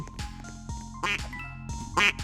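Cartoonish duck quacks from the Roblox game Don't Press The Button, several short calls in quick succession, with a few louder, closer quacks standing out over a steady game background.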